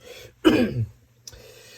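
A single rough cough, loud and close, followed by a brief faint throat sound, with near silence around it.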